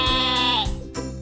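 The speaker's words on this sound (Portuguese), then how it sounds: "Ovelha" A single sheep gives one short, close, wavering bleat with no other sound around it.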